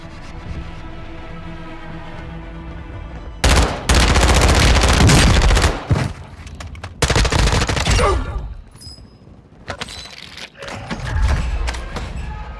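Video game gunfire: bursts of rapid automatic shots, loud and close, in several long volleys separated by brief pauses, with scattered thumps and mechanical clicks between them.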